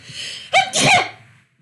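A single sharp sneeze, close and loud, preceded by a quick inhaling breath and trailing off into quiet.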